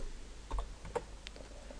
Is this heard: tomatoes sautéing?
no